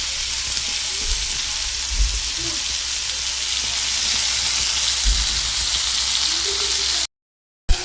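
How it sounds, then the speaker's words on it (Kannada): Chicken fries in a pan over a gas cylinder burner, a loud, dense, steady sizzle that hisses continuously and close, with a couple of faint low knocks underneath before it cuts off abruptly near the end. "ಒನ್ ಟೈಮು ಎಲ್ಲ ಫ್ರೈ ಮಾಡೀವಿ."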